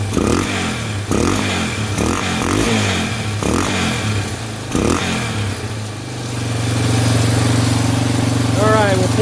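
A Yamaha Warrior motorcycle engine idles with a low, steady throb, a person talking over it at first, then the idle rises slightly and settles into a louder, even hum.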